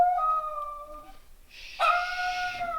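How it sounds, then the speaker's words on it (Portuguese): A dog howls close by in two long, wavering cries separated by a brief pause, the second one louder and higher, with no talking over it. "Perdão aí, pessoal, cachorrinho aqui."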